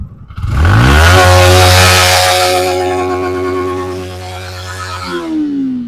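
A Yamaha MT-15 motorcycle engine revs hard and loud close by, holding a high roar for several seconds before easing back slightly and then revving up again.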